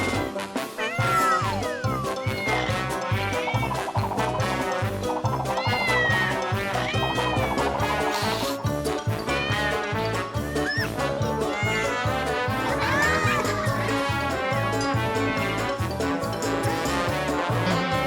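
A cat meows repeatedly in a Halloween toy play scene, several rising and falling meows over a steady backing of upbeat music, clear and fairly close throughout.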